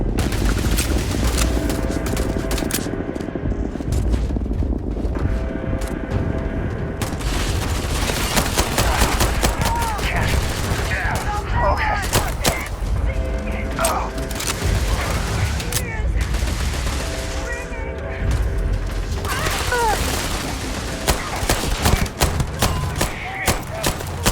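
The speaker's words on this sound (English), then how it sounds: "Shoot the cannons!" Cannons fire in rapid, heavy volleys during a Starfield space-combat battle, loud booms and crackling blasts layered continuously under shouting voices and music.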